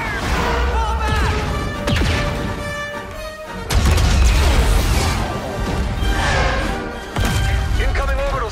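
Loud, heavy blasts from incoming fire and an orbital strike on a rebel uplink station in a sci-fi combat video game, with big booming hits near 0 s, 3.7 s and 7.2 s over continuous battle noise and game voices.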